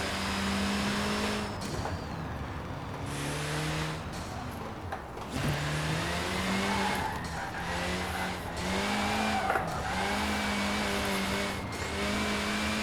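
Abarth 695 Biposto from 2016 skids through Forza Horizon 4, with continuous loud tire squeal over a steady engine drone lasting throughout, rising and falling in pitch as the car slides.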